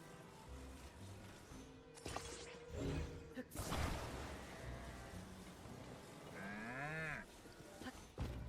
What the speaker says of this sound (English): Cow, don't attack me.